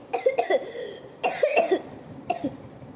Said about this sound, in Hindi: खांसी करके उठी।